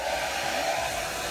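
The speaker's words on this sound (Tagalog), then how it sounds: "Then, i-blower natin siya." A hair dryer blows steadily on a person's hair during a home keratin treatment, a close, continuous whooshing roar with no pauses.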